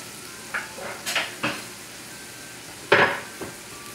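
Garlic puree in olive oil sautés in a pan with a faint sizzle, and a utensil stirs and scrapes against the pan in several short, sharp clinks. No one speaks.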